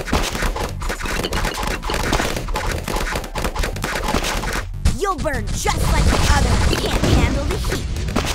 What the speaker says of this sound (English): hear the gunshot.